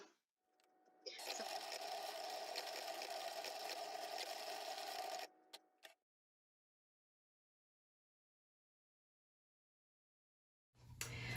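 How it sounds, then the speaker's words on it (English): A Cricut Explorer 3 cutting machine working through removable smart vinyl, a steady motorized whir and buzz lasting several seconds with small shifts, then cutting off abruptly into silence before a brief rustle at the end. "it's sending all the information to the cutting machine"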